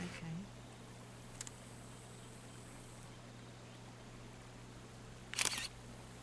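Camera shutter snapping a photo in the video game Lone Pine, heard as two short clicks, a faint one early and a louder, sharper one near the end, over a low steady hum.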